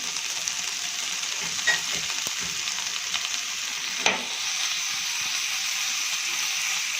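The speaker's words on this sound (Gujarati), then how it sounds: "અને સારી રીતે ફ્રાય થવા દઈશું. ગેસને આપણે ફૂલ કરી દઈશું." Ingredients for thalipeeth frying in a pan over a full gas flame, a steady close sizzle and hiss with a couple of sharp clinks of a spoon against the pan partway through.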